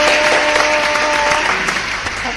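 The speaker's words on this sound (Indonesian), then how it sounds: "Oke, tepuk tangan dulu." A room full of people claps in steady, dense applause for a couple of seconds, with a faint tonal hum underneath that fades partway through.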